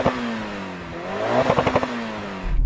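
Mitsubishi Evo 6 engine revving, a rising throttle blip with a burst of crackling pulses around the middle, then easing off, heard fairly close and alone.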